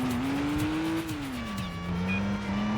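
Engine of a car in a Stuntman driving video game, a steady droning tone that rises and falls through a handbrake turn, with a faint tire squeal layered over the hum.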